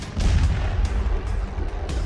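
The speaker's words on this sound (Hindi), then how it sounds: "गंगोत्री क्रूज में धमाका हुआ है" A dense, heavy low rumble of blasts and booming roars from an explosion on the Gangotri cruise boat in Varanasi continues steadily throughout, loud and close, with no voices.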